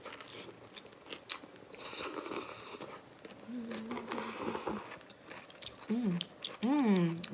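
Spicy instant hotpot being chewed close to the mic, with wet crunchy bites and mastication under intermittent talking and some vocal sounds.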